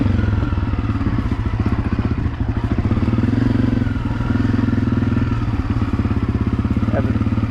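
Honda CRF250F dirt bike ridden along woodland trails, its single-cylinder engine droning steadily close by with rhythmic pulsing and some clatter throughout.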